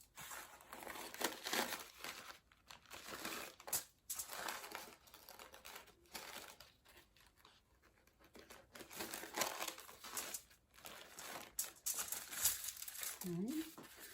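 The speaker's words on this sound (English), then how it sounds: "I'm going to take the coffee filters and lay them out on the foil" Coffee filters laid out by gloved hands onto aluminum foil, giving repeated close crinkling and rustling in uneven bursts with short quiet gaps, while someone talks quietly at times.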